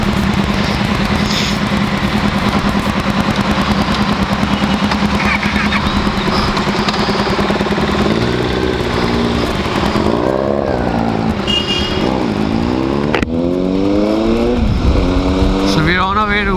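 A small group of four motorcycles rides together on a Republic Day road ride in India, with loud engines droning continuously and repeated rising revs as the bikes accelerate.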